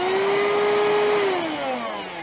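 A Hoover Fusion Pet cordless stick vacuum runs steadily and loudly up close, its motor whine holding a constant pitch before sliding lower, with no talking.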